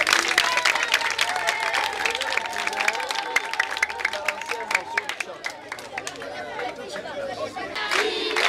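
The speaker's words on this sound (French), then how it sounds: "Applaudissements encore une fois." An audience applauds loudly at a live event: dense, sustained clapping mixed with crowd chatter and cheering, easing slightly midway before swelling again at the end.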